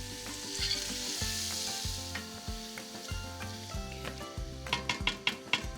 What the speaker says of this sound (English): I'm just gonna add my onions to my hot oil, and I've finely chopped the onion